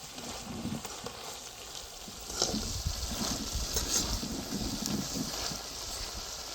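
Spinach fries in a pan with a soft, continuous sizzle and crackle, fairly faint and steady, with occasional brighter pops and stirring scrapes.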